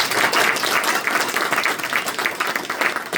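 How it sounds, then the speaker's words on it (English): A round of applause from an audience at a talk, loud and close, sustained dense clapping throughout without speech. "I do have a round of applause again"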